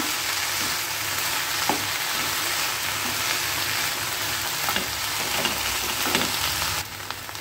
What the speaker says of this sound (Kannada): ಇದನ್ನು ಇವಾಗ ಚೆನ್ನಾಗಿ ಫ್ರೈ ಮಾಡ್ಕೋಬೇಕು